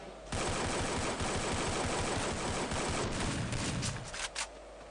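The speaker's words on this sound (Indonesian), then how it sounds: "terjadi suara tembakan" Rapid automatic gunfire in the Free Fire battle royale game erupts suddenly and runs as a dense, loud burst for about four seconds, then breaks into a few scattered shots before stopping.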